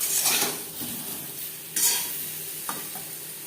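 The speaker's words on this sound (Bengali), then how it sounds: "লবণ হলুদ দিয়ে আলু হালকা করে ভেজে নেওয়া হয়ে গেছে।" Potatoes lightly frying with salt and turmeric in a pan, a soft steady sizzle with scraping stirring strokes and a brief metallic clink, close up and with no voices.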